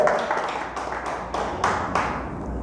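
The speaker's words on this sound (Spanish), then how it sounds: "Dele fuerte el aplauso a Dios, déselo fuerte, fuerte" A church congregation claps to God in a quieter, rhythmic way, about five distinct bursts of clapping in a steady beat with faint room noise between them.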